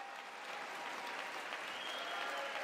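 Audience applause in a large chamber during a State of the Union address, a steady dense wash of clapping that holds level and loud from start to finish with no voices over it.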